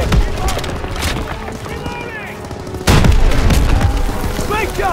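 Heavy gunfire and booming blasts in the Call of Duty: World War II campaign, a dense loud barrage that swells sharply midway, with shouted voices mixed into the battle.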